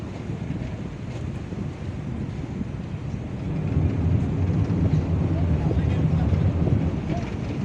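Wind buffets the microphone over a low, rumbling hum of a fast ferry near the harbour at Banda Aceh, with the engine drone growing louder and steadier midway through.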